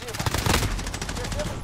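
Rapid automatic gunfire from the video game Call of Duty Modern Warfare rattles on continuously, loud and dense, with bursts overlapping other game effects.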